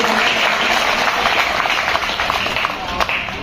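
Sustained audience applause fills a student award ceremony held by an alumni committee, a steady loud crackle of many hands with a voice speaking over it.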